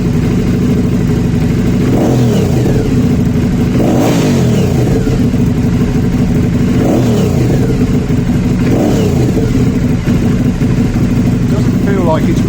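An Aprilia Shiver 750 motorcycle engine revs repeatedly from idle, with several sharp throttle blips rising and falling over a steady loud idle, heard close up.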